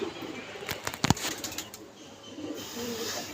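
Pigeons released from a neighbouring house flap their wings in a few sharp bursts and coo softly, fairly close outdoors against a low background hum.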